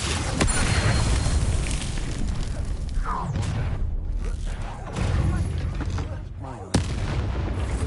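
Confringo blasting spell detonating in the Hogwarts Legacy game, heavy booming explosions with noisy crackling bursts amid battle din, loud and continuous with a sharp blast near the end, a voice shouting over it.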